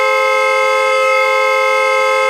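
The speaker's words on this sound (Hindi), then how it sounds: "कौन है ये नॉन स्टॉप हॉर्न बजा रहा है?" A loud, unbroken horn blares continuously at a steady pitch, holding without pause until it cuts off abruptly at the end.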